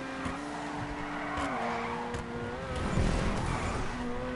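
Cars in a GTA 5 Online stunt race on PS4 roar continuously while tires squeal in sliding, wavering tones that rise and fall, with no talking.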